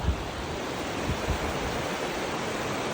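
A river or stream flowing beneath a bridge in Okutama, Japan: steady broadband rushing water, close and continuous, with a few low thumps of wind on the microphone.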